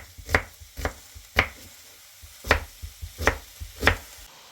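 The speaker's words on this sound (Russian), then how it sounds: "нарезаем одну большую луковицу небольшими кубиками" A knife chops an onion into small cubes on a cutting board, about nine crisp taps in an uneven rhythm, close and fairly clear, with no talking.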